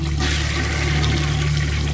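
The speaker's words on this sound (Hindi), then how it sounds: "बाथरूम से फ्लश चलने की आवाज आई" Toilet flushing in a bathroom, a loud, steady rush of water filling the whole short moment, close by with a constant hiss and low gurgle and no voices.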